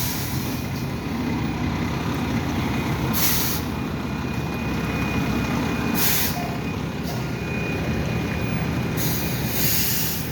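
A water truck on a road being milled releases repeated sharp hissing air-brake bursts over a loud steady diesel idle and rumble, with a thin continuous tone running beneath.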